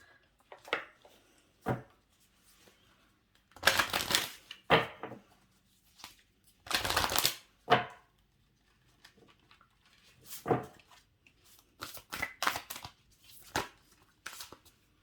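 Moonology oracle cards are shuffled by hand in irregular bursts of papery riffling and slapping, close and fairly quiet, with short pauses between rounds and no talking.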